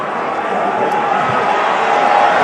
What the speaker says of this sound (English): The crowd will tell you what this moment is all about as they await the first bell